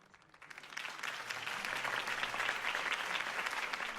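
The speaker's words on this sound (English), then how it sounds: "could have heard that applause" Crowd applause in Batman: The Telltale Series, following a campaign speech by Harvey Dent; dense clapping swells in over the first second, then holds steady and full across the rest, alone with no talk.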